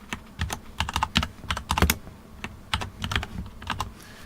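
Rapid typing on a computer keyboard while entering a SQL command, crisp close key clicks in quick uneven runs with brief gaps, no voice present.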